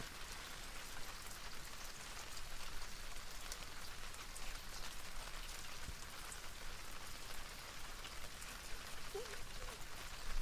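Steady rain falling at a beach beside the water during wind and a high tide, a dense even hiss of drops on surfaces that holds throughout with no voices.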